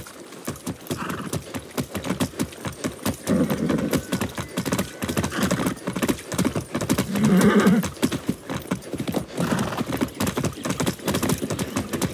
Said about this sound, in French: je suis pas montée à cheval depuis l'entraînement de base